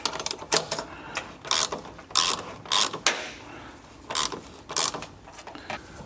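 Ratchet wrench tightening down the mounting bolts of a vise, short bursts of rapid clicking repeated in an uneven rhythm, close and fairly loud.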